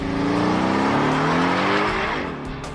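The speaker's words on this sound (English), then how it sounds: "Got this car finished up and took it out for a test drive." A finished custom-built car drives out on a test run, its engine droning loud and close with rising harmonics as it accelerates, tires faintly squealing, easing off near the end.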